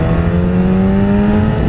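BMW S1000RR motorcycle pulling hard from 60 to 100 in third gear, a loud, close engine whine that climbs steadily in pitch and holds throughout.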